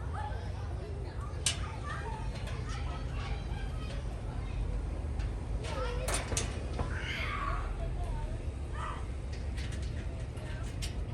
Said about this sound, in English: Sorry about the screaming kids in the background.